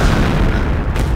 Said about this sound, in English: We need a tank fire, such as that.